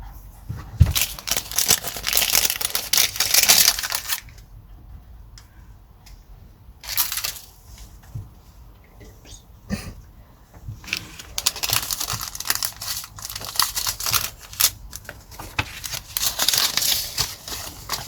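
Pots made of paper pulp, used for seed sowing, being handled close up, giving dry crinkling and crunching bursts in clusters with quieter pauses between.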